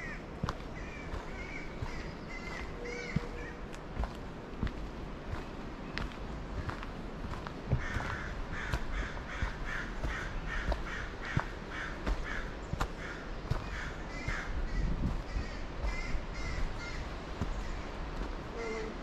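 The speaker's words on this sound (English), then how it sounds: "Definitely a crow fight going on." American crows caw repeatedly in a squabble along a coastal trail, harsh calls from some distance over steady wind and surf noise, mixed with crunching footsteps on the path.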